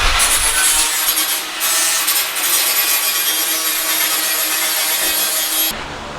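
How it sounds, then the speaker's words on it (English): Flat file deburring the cut edge of a metal heat shield part for a gas forge in a blacksmith shop, giving a continuous bright rasping scrape that runs steadily close up, with no talking. "Now I'm just going to deburr this real quick with a flat."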